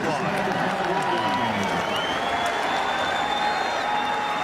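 Stadium crowd at a Cowboys–Bengals preseason football game roaring and applauding a long kickoff return, a steady loud wash of cheering with a commentator talking over it.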